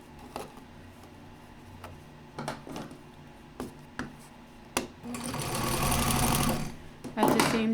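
A sewing machine with a zipper foot sews an invisible zipper for a skirt, first ticking in slow single stitches, then running in a steady close whir, as a person talks.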